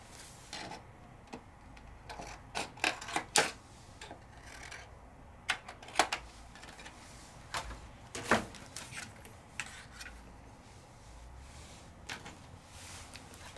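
A Sizzix die-cutting machine works through a paper tag, giving a string of irregular, close clicks and ticks over a quiet room hum, with clusters of sharper snaps spread across the stretch.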